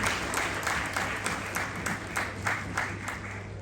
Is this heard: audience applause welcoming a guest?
yes